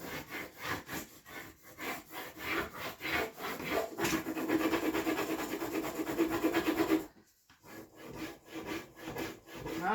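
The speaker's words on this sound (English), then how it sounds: "we're gonna rub all that in this area that's just flat till we get to the routed edge" A transfer is rubbed by hand onto flat wood up to a routed edge. The result is a close, steady, rhythmic scratchy rasping with repeated strokes, a brief pause near the end and then more rubbing.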